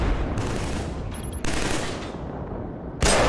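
Sustained bursts of MG5 machine gun fire in the video game Killzone 3, dense, loud and close, with brief pauses between strings of rapid shots.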